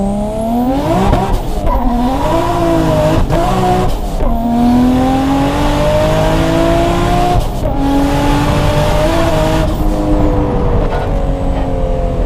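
A car with an RB26 engine, an R33 Skyline, revs hard and continuously, its pitch climbing and dropping through repeated throttle blips, loud and close with no talking.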